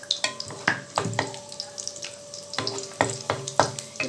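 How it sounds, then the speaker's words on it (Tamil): Cashews and raisins sautéing in a pan, a light sizzle with repeated sharp clinks and scrapes of a spoon stirring against the metal, irregular and close, with no speech. "இப்போ இது முந்திரி திராட்சை கொஞ்சம் வதங்கிருச்சு."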